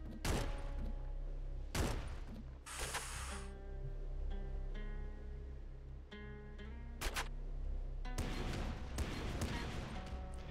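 Gatling bazooka firing in the video game Nuclear Throne Ultra Mod, a series of sharp explosive blasts and rapid bursts over a steady game soundtrack, with no voices.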